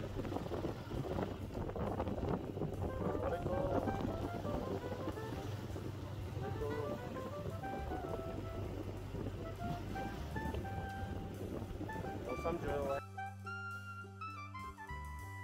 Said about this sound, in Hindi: और मस्त हवा चल रहा है 60 पर आवर